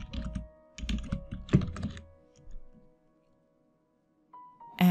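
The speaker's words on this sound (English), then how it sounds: "From the search bar, just type in Sarada Lite" Typing on a computer keyboard into a search bar: bursts of close, crisp key clicks for about two seconds, then silence, followed by a faint electronic tone and a thump at the end.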